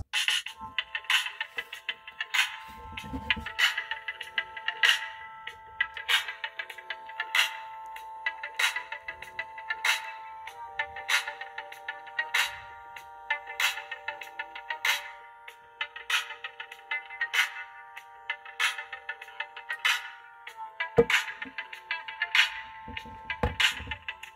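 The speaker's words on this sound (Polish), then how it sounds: "Głośnik jest dosyć głośny, ale jego dźwięk jest dosyć płaski. Słuchajcie sami." Ringtone melody played through the small speaker of a Maxcom MM135 budget mobile phone, a sequence of bright, thin electronic notes repeating in a steady pattern, fairly loud but flat in tone, with faint handling noise.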